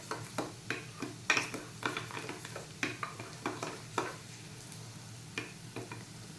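A spoon stirs turmeric, red chilli powder and coriander-cumin powder in a pan while making Gujarati karela shaak, giving a series of distinct close scraping taps at an uneven rhythm over a faint sizzle.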